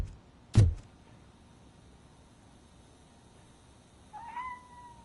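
In the RoboCop: Rogue City video game, a cat lets out a short, fairly faint meow near the end, after a sharp thud and a stretch of quiet room tone.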